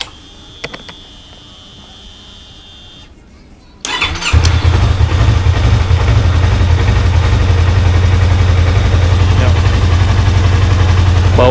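A Yamaha R25 motorcycle engine starts abruptly after a quiet stretch with a few clicks, then runs at a loud, close, uneven idle with a rough pulsing throb that continues throughout.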